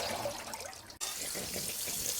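Rinse water drains out of a sink or bowl of soaked escarole being washed free of sand, a steady close rushing wash with a brief break partway through.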